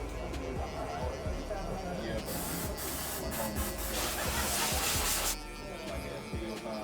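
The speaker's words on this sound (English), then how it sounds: "when you're going up with the clipper, it feeds nicely into the blade" Electric hair clipper buzzing steadily up through coily hair during a mid fade, a close continuous hum with brief crisp bursts as the blade bites, under intermittent talking.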